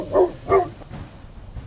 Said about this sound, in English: Be advised, a lot of dogs.